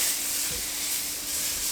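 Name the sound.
cubed steaks sizzling in a pan after being flipped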